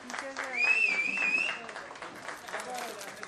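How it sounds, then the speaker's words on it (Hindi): Applause from a crowd at a film music launch event, with a sustained whistle or tone riding over it, steady clapping throughout at moderate loudness. "जोरदार तालियां"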